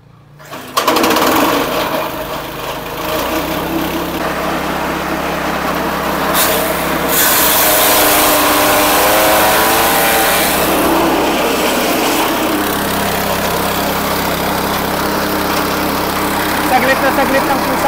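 A gasoline Briggs & Stratton engine powers a shredder machine after starting up, settling into a loud, steady, close droning roar that runs throughout with little change.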